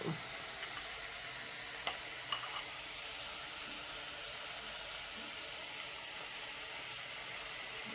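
Chili powder dropped into hot oil while cooking an onion dish gives a faint, steady sizzle throughout, with a couple of small clicks of a spoon or pan.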